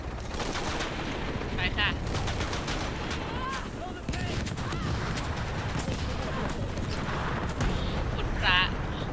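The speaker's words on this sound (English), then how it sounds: "Pilot in forward position, opening fire." Rapid gunfire from a helicopter pilot opening fire in the video game Shadow of the Tomb Raider, a steady dense barrage with bursts and booms, heard under a voice and game dialogue.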